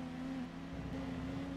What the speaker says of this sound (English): it sounded very much like the car behind me was either bouncing off the rev limiter